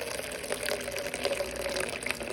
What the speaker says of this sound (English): I'm gonna go ahead and add my distilled water.